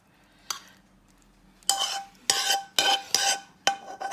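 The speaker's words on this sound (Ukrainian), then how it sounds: "візьмемо собі ложку і розрівняємо це сюди" A spoon scrapes and knocks against a dish in several short strokes while spreading a moussaka mixture, with a faint sizzle beneath and no talking.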